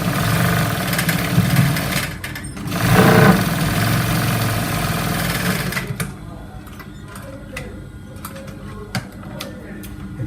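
A sewing machine stitches a trouser seam, giving a steady mechanical whir for several seconds that gives way to quieter clicks and handling taps.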